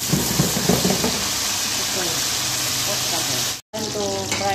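Potato frying in a pan for an Indian potato and cauliflower dish gives a steady, close sizzle and hiss that runs unbroken apart from a short cut near the end. Faint background sounds sit under it.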